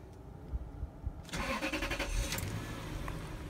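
A 2002 Lexus LS430's 4.3 litre V8 cranks and fires at about 1.3 seconds after a quiet interior lull, then settles into a steady, close, moderately loud idle with no talking.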